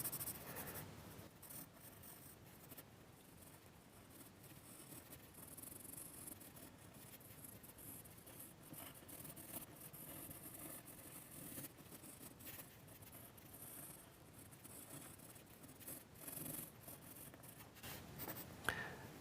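A pen scratches quick, loose sketch marks across paper in an even stream of soft, close strokes, with no one speaking.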